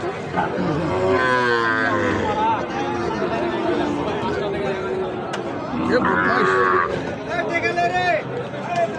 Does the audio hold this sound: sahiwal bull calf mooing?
yes